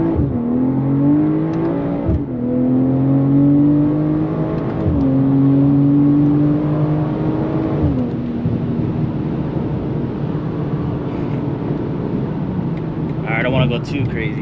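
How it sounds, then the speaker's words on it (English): A BMW M340i's B58 engine revs hard on a freeway, pitch climbing through several gear changes with brief dips between them, loud and close inside the cabin before settling to a steady cruise drone. "B58 screaming. You know you drive a BMW when it makes that noise."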